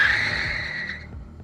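Car tires squealing as a car speeds off in a hurry, loud and close, the screech sliding down and fading within about a second.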